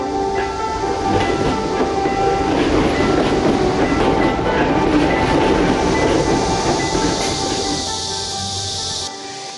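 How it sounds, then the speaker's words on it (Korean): A train passes on the railway at the Yongsan Baekbin level crossing in Seoul, a loud, close, continuous rumble with rhythmic clickety-clack of the wagons that eases slightly near the end, no voices. "여전히 철로에는 기차가 지금도 다니고 있습니다."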